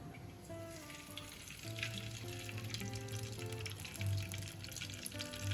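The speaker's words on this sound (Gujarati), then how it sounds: "ત્યાર પછી હવે આપણે તેમાં ઘી એડ કરીશું" Ghee heats in a pot on a gas flame while lapsi is being prepared, giving a steady soft sizzle under prominent background music for the whole stretch.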